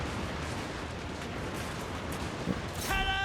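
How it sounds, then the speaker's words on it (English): Handgunner volleys in the Total War: Warhammer 2 battle game, a dense continuous crackle of distant massed gunfire with a sharper shot near the end, no voices. "our handguns are going to start firing"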